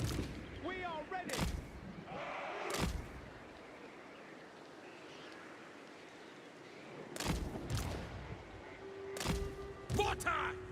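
Empire cannons fire in Warhammer 3 battle, with several sharp booming blasts spaced irregularly across the clip, some close together, over a background of game noise and faint voices.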